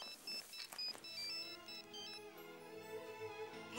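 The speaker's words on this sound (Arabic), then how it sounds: "عم يرن الموبايل" A mobile phone rings with a repeating electronic melody of short bright tones that gives way to a sustained synthetic tune, close and clear with no speech.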